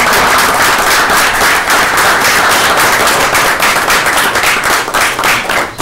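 Loud, dense applause from a town meeting crowd honoring the fire chief's staff, steady rapid clapping that fills the room without a break.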